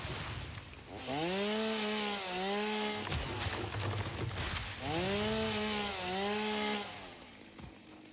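Chainsaw cutting wood in the video game Satisfactory, two long revving passes of the engine rising and falling over a wide noisy roar, loud and close with no talking.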